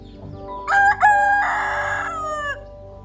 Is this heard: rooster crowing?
yes